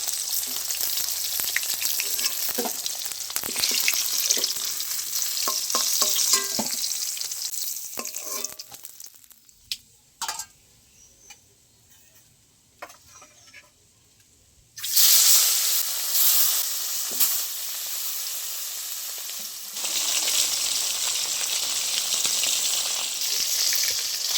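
Fish frying red in hot oil in a pan, a dense crackling sizzle that dips and nearly dies away midway with scattered pops, then returns loud and steady for the final stretch.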